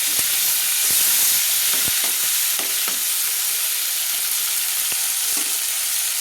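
Tomatoes and spices fry in hot oil in a pan while being stirred, a steady loud sizzle with occasional sharp spatula clicks, close and continuous.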